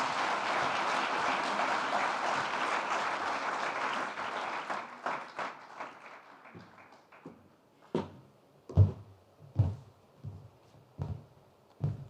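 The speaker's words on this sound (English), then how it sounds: "A round of applause for him," An audience at the Namibia-EU business forum gives a round of applause, full and steady at first, then thinning out around the midpoint into a few scattered, separate claps that trail off.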